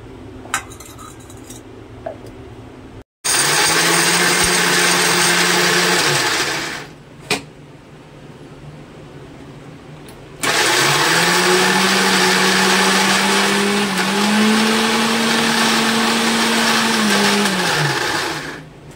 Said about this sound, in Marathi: भाजलेले शेंगदाणे, लसूण, जिरं हे आपण वाटून घेऊया।